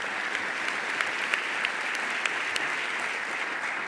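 An audience at a Rotary Club gathering applauds for Betty Peabody of Balboa Park, a steady wash of clapping with a few sharper claps standing out, sustained evenly throughout.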